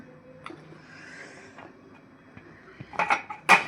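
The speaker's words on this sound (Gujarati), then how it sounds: "એ ઈડલીના ટુકડા કરી નાખશું વઘારવા માટે" Leftover idli is chopped into small pieces in a kitchen, soft scattered taps of utensil on plate building to a few sharp metallic clinks at the end.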